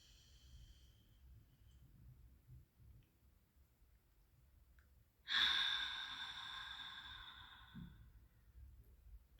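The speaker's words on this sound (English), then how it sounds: "We're gonna take a little grounding breath. So just in through your nose." A slow grounding breath taken in through the nose and released through the mouth, a faint intake followed by one long, airy, fairly close exhale that trails off gradually.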